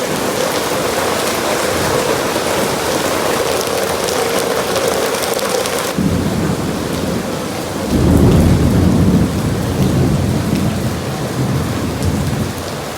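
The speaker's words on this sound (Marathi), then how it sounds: "खूप छान पाऊस पडायला चालू झाला आणि ते पण जोरात ढगांच्या कडकडात सोबत" Heavy rain pours down steadily with deep rolling thunder, loud and close throughout, swelling even heavier near the end, with no voices.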